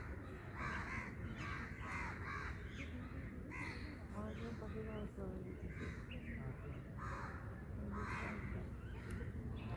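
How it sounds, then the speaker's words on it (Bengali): Several crows caw repeatedly among other bird calls in a green city park in Delhi, steady and fairly close, with people talking throughout. "পাখিদের আওয়াজ কত রকম।"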